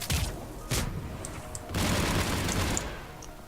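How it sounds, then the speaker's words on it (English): Rocket explosions in the video game Mass Effect, heard as a few heavy blasts and bursts of loud rumbling fire close by, with a short pause between them. "Oh hey, more rockets."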